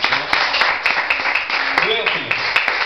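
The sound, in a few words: church congregation applauding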